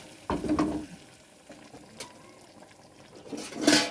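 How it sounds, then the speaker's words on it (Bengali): Spiced tempering hits a pot of boiling khichuri with a short sizzling burst, fading to a quiet simmer before a second brief hiss near the end, close by. "এদিকে আমার খিচুড়ি হয়ে গেছে, টকবক করে ফুটছে। আর এই ফোড়নটা দিয়ে দিলাম"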